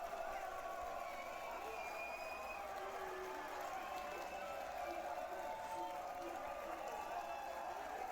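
Steady, somewhat distant applause and cheering from a crowd at a NOVA OPEN preview event, heard as playback with a voice talking over it throughout.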